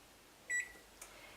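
A single short electronic beep from a kitchen timer being set for twenty minutes, faint over quiet room noise, with a tiny click just after.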